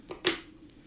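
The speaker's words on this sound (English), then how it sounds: "So I just cut my yarn" Scissors snip through crochet yarn, two or three quick, crisp clicks close up, one louder than the others, with near quiet between them.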